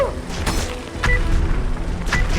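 Bombs explode in a Roblox video game, several booming blasts and thuds arriving about a second apart over a rumbling, mechanical game background, loud and close.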